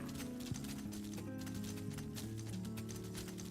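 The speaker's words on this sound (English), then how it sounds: "I can get on a horse apparently." A horse's hooves gallop in Elder Scrolls Online, a quick steady clip-clop heard up close over game ambience and music.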